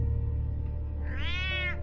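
A cat in Batman: The Telltale Series gives a single short, rising-and-falling meow near the end, clear over a low steady background hum.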